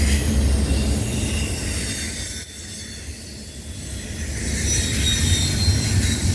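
A CN freight train rolls past the VIA station in Cobourg, Ontario at night, a loud continuous rumble of wheels and cars with faint squealing and clacking, steady and close throughout.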